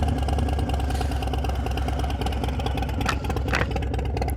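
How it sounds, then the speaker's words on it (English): A Harley-Davidson Low Rider S motorcycle with a 131 engine runs steadily up close, its deep exhaust pulsing continuously with a couple of brief revs near the end. "we're gonna let you guys hear what this bike sounds like."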